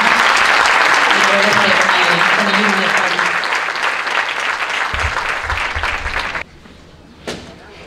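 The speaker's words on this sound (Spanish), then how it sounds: "Un aplauso para Tomás." An audience applauds at a Constitution Day ceremony, with dense, loud clapping that fades out over several seconds before the hall goes quiet, with a thump and voices near the end.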